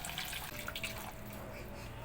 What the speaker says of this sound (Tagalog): Tubig na mainit